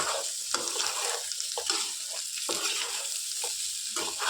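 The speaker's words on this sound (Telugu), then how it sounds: "సో ఇలా బాగా మంచి కలర్ వచ్చేంత వరకు ఇవి కొద్దిగా క్రిస్పీగా అయ్యేంత వరకు ఫ్రై చేసుకోవాలి" Bitter gourd slices fry in a pan for a Rayalaseema-style crispy fry, giving a steady close sizzle broken by repeated scraping stirs about once a second, with no talking.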